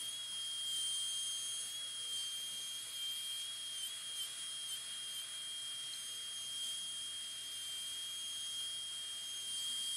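A high-speed dental drill cuts a light chamfer on the lingual side of a lower first molar during a PFM crown preparation, giving a steady, faint, high-pitched whine that holds throughout.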